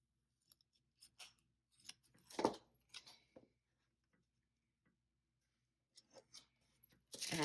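Scissors snip through paper in a few short, quiet, irregular crisp cuts separated by near silence, close by, with a louder rustle of paper at the end.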